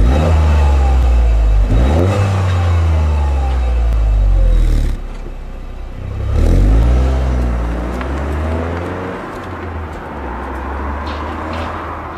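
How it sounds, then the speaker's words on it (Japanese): Stock-muffler Toyota GR Yaris pulling through medium speeds, its exhaust rising in pitch through a few gear changes and dropping back off throttle, heard close and steady with no voices. "ノーマルマフラー中速。"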